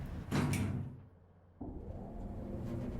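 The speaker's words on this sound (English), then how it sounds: "Doors closing." Train doors closing in Train Sim World 5 on the Leven branch of the Fife Circle: a loud sliding-door burst near the start, a quieter pause, then a steady mechanical hum as the doors seal, with no talk.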